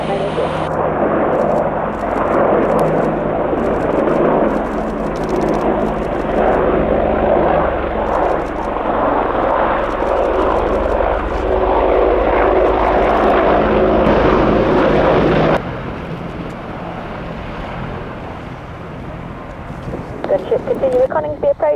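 Apache attack helicopters flying over RAF Coningsby airbase, a loud, steady rotor and engine roar sustained for about fifteen seconds before dropping to a quieter, more distant drone.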